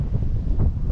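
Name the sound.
strong wind on Puerto Galera beach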